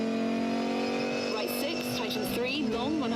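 A Lancia rally car drifts through a corner, its engine droning steadily at high revs with a shifting pitch as it slides, while someone talks over it.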